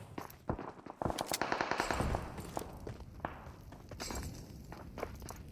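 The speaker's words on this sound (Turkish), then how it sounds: "Bomba atıyorum." In PUBG Mobile, a thrown grenade goes off with a sharp blast and a burst of shattering crackle, followed by scattered gunfire and rattling impacts at moderate level.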